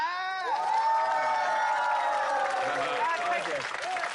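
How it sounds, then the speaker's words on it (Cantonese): An audience at a school gathering applauds the headmaster, with a burst of clapping mixed with cheering and high whooping voices that swells and then fades over a few seconds. "多謝校長，大家俾啲掌聲校長。"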